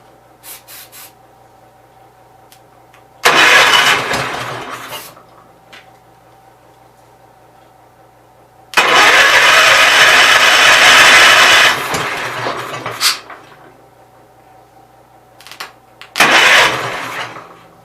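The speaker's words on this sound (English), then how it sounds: "I'm going to bump it, and I'll try to keep it running on carb cleaner for a second." A Gravely 810 garden tractor engine kept alive on carb cleaner cranks and catches in loud, rough bursts: a short run, a longer roaring stretch that sags and dies, then a final brief sputter, with quiet gaps between.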